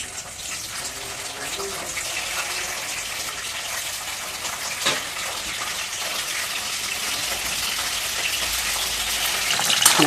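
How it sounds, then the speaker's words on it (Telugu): Okra pieces sizzle in hot oil in a pan, a steady bright hiss held at moderate loudness throughout, with a small pop midway and a slight swell near the end, without any speech. "స్టార్టింగ్ అయితే మనం బెండకాయ ముక్కలు వేపుకుందాం."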